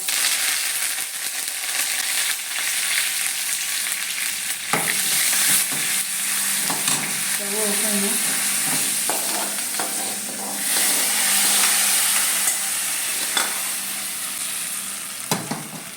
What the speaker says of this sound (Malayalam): അപ്പോൾ ചീഞ്ചട്ടി അടുപ്പത്ത് വെച്ച് വെളിച്ചെണ്ണയ്ക്ക് നമ്മൾ കടുക് ഇട്ട് കൊടുക്കുന്നു.